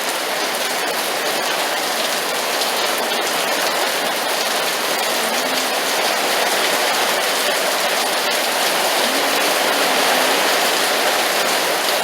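Rain falling in a Las Vegas yard with grass, a steady, dense hiss of drops that stays loud and unbroken from start to finish.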